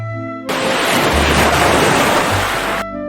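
Ocean waves surge and wash in a loud, continuous roar of surf for a few seconds, standing alone between brief musical tones.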